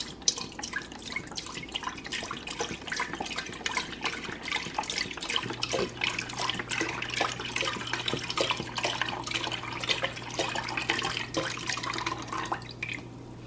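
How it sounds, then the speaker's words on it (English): A whole bottle of stock poured into a pot on a stove for seafood bisque, a steady, continuous splashing gush of liquid that runs unbroken throughout, fairly close, with no voices. "you want to pour that whole bottle in your pot, like so"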